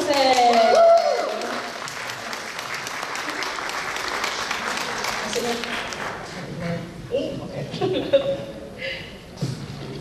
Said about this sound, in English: Everyone give a round of applause for Nana.